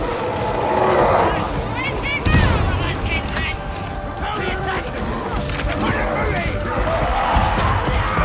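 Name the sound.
grenade explosion in Warhammer Darktide video game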